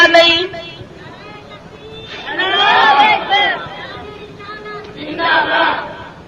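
A large crowd at a religious gathering chants slogans together in loud bursts of massed voices, swelling and fading in waves with a short pause between chants.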